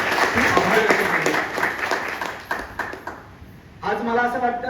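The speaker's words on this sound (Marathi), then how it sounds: "आपण टाळ्या वाजून आधी त्यांच्याविषयी आभार व्यक्त करूया" An audience at a library's Reading Inspiration Day event applauds in thanks, with thick sustained clapping that thins out and fades before a voice begins speaking over the hall.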